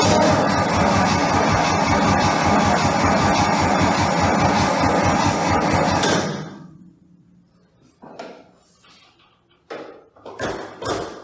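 A 1967 Chevy C10 Stepside barn-find truck cranks for about six seconds in a loud, rhythmic churning that never catches. The cranking then cuts off, followed by a few scattered metallic clunks nearby.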